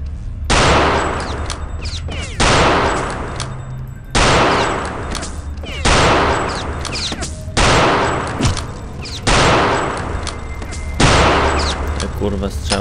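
Gunfire in the game Return to Castle Wolfenstein: a series of loud, heavy bursts spaced roughly every one and a half seconds, each sharp onset followed by a sustained roar that fades before the next.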